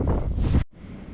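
Gusting wind buffets the microphone beside a stream where minnows swim, a loud roaring rush for over half a second that drops abruptly into a softer, steady outdoor hiss.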